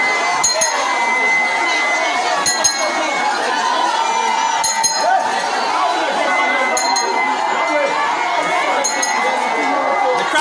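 A large protest crowd gathers in Maryland County, Liberia, over ritualistic killings, a steady loud roar of many voices with scattered shouts and periodic metallic clinks throughout.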